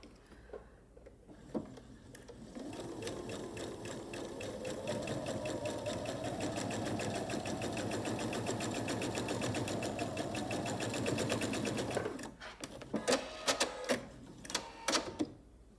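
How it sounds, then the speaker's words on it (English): Sewing machine stitching a quarter-inch seam along a quilt block, running in one steady, close mechanical rattle for about ten seconds, then stopping with a few clicks and cloth handling. "I'm gonna sew a 1/4 inch seam right along here."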